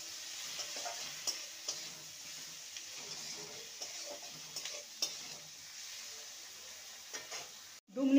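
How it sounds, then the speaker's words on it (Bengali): A spoon stirs poha with salt and turmeric in a pan over soft steady frying, with light scraping taps at irregular intervals and a louder clatter at the very end. "একটু নেড়ে নেব।"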